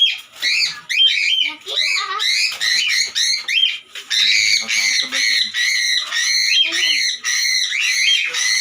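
A cockatiel squawks shrilly and repeatedly while being caught from a cage, harsh piercing calls coming in rapid, nearly continuous bursts, loud and close, with brief human voices underneath.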